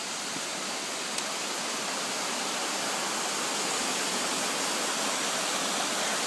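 Water rushes steadily down worn granite rocks beside a mountain trail on Mt Moosilauke's Beaver Brook, a loud, continuous broadband roar like a small waterfall, close by and unbroken.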